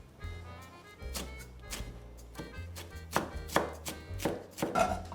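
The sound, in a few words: knife finely chopping parsley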